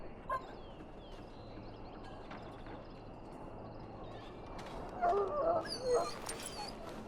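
A dog whimpers in a pen in the game Dragon Age Origins, a few soft, high whines near the end over a steady low ambient hum, with a brief yelp early on.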